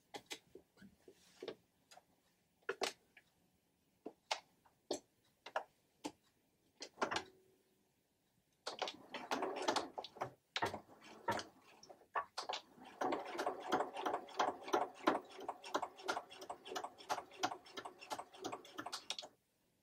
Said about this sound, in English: And then I'm going to just sew along here.